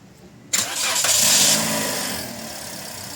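A Toyota Vios with 138k on the clock and an overheating problem cranks and fires up, then settles into a steady idle. It starts with a sharp burst after a moment of quiet and is heard close with no talk.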